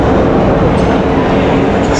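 Busy train station ambience in Mumbai, India, with a continuous loud rumble and roar of a passing train filling the space and no clear voices.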